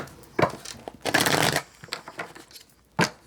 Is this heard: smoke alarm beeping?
no